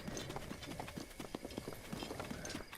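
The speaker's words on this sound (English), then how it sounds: "Did my horse like legit run away?" A horse gallops off in Breath of the Wild, its hooves striking a quick, steady clip-clop rhythm that stays fairly faint and even across the whole stretch.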